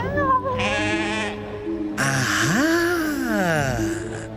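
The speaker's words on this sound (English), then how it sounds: "That sounds like a sheep." A sheep bleats in a loud, wavering, drawn-out cry that comes twice, the second call longer and rising then falling, heard alone and close.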